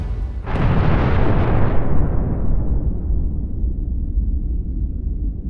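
A nuclear bomb explosion sound effect bursts in suddenly with a loud, deep blast, then rolls on as a heavy rumble that slowly fades.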